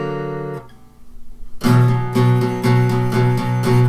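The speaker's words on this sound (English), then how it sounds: "Guitars don't sound this bright in a professional mix." Bright, jangly acoustic guitar strung with Ernie Ball Earthwood phosphor bronze strings, a short pause then loud strummed chords in a steady rhythm, close and unaccompanied.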